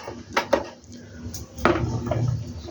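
Clattering knocks of a metal lid being set onto a cooking pot in a home kitchen, a couple of sharp clanks followed by a quieter scrape and settling rattle.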